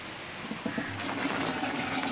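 Light rain falling steadily in a village setting during an areca nut harvest, a soft continuous hiss with faint watery patter and no voices.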